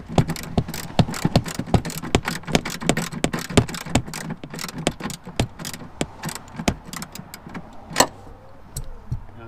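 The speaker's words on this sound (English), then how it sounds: "just use your 10mm socket to just keep doing it up until it's tight" A socket wrench ratchets a 10mm nut tight on a first-generation Mini Cooper R50/R53 rear tail light, giving steady, close, repeated clicks that thin out near the end.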